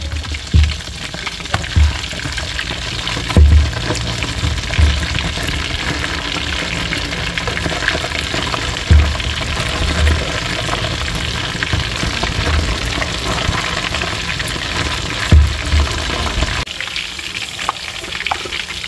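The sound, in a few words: vegetables and fish being stir-fried in a pan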